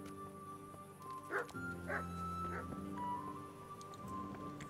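A dog in the medieval game Kingdom Come: Deliverance gives three short barks or yips, moderately close, over steady game music and ambient hum.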